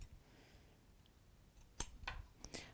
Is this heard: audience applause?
no